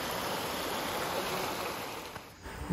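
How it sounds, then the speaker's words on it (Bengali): Steady rushing of a stream flowing down to a waterfall, a continuous broad wash of sound close by, briefly dipping before a voice starts at the end. "ওই যে পানিটা গড়ায় পড়তেছে ওইটার নিচে হচ্ছে ঝর্ণা"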